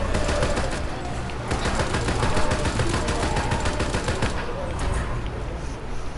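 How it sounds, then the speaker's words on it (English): Rapid, sustained bursts of light-machine-gun hip fire in the World War 2 Zombies mode of a video game, dense and loud with barely a break across the stretch, game ambience and a chirping bird-like sound faintly underneath. "with the LMGs, hip fire is often more effective"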